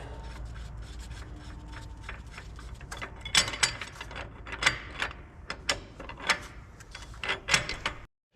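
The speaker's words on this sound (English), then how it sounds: "I may actually have to take and roll the crankshaft around." The crankshaft of a John Deere 4840 tractor engine is rolled around during an overhaul, with quiet metallic ratcheting clicks and clunks close by, growing busier and sharper partway through, with no talk.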